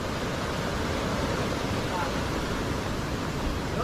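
A large waterfall in Quezon, Nueva Vizcaya roars as a steady, dense wash of noise, constant and enveloping throughout with no breaks.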